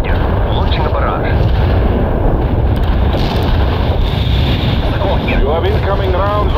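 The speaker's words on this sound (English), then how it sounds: "Launching the barrage." Artillery barrage firing in the World in Conflict video game: continuous heavy rumbling booms, loud and close, with overlapping blasts throughout and some voices and game chatter mixed in.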